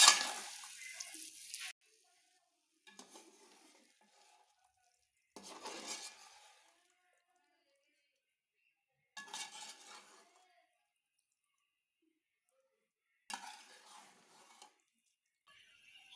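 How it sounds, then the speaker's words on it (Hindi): A spoon stirs chicken jalfrezi with cubed egg in a pan, four or five short separate bursts of scraping and clinking against the metal, with near silence between them. "अब इसे अच्छी तरह मिक्स कर लेंगे।"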